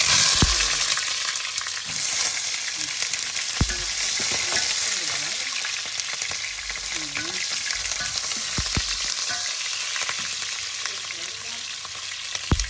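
Onion frying in hot oil, a loud, continuous close-up sizzle and crackle with occasional stirring knocks throughout.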